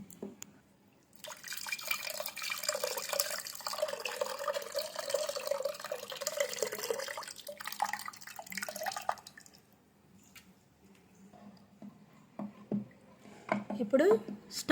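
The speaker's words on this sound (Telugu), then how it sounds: "ఇప్పుడు చింతపండు పులుసు పోసుకుందాం పిసికి." Squeezed tamarind juice poured into mashed lentils for tomato pappu charu, a steady liquid trickle and dripping for several seconds, close and clear, then tapering off into quieter kitchen handling.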